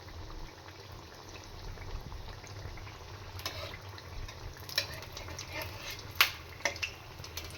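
Food frying in hot oil until reddish-brown, a steady broadband sizzle with a few sharper pops and crackles near the end, continuous and fairly close.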